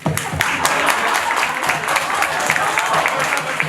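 An audience at a drama press presentation gives a round of applause, lively overlapping claps with distinct sharp hits, loud and close, with some voices mixed in.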